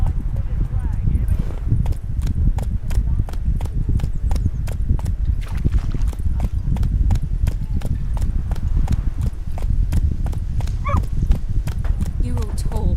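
Roach, the horse in the video game The Witcher, clip-clops in a steady walking rhythm of sharp, close hoof strikes that run through the whole stretch while voices talk over them.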